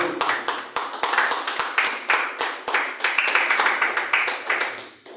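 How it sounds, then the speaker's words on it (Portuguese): A church congregation breaks into applause, a handful of distinct, sharp hand claps ringing out over a busier patter of clapping that carries on steadily throughout, close and loud. "dá uma salva de palmas para Jesus Cristo"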